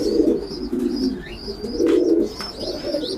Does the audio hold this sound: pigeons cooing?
yes